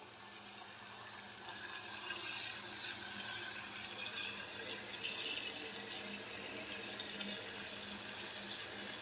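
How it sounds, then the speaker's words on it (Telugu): Red ponnaganti leaves being rinsed under a running kitchen tap, a steady hiss of water splashing into a sink with small surges and no voices. "ఇప్పుడైతే ఆకుకూరని క్లీన్ చేసేసుకుందాం వాటర్ పట్టుకునేసి"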